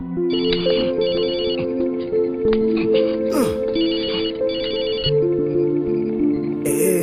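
A telephone rings in repeated electronic trills, near and fairly loud, while voices talk over it.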